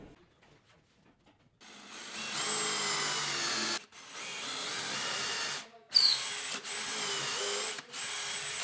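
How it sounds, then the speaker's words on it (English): Electricians pulling wire in the ceiling overhead, a loud grinding, drill-like whir that runs in long bursts separated by short pauses, with a brief squeak partway through. "if you're hearing that really loud noise in the background, it's the electricians pulling wire in the ceiling directly above me"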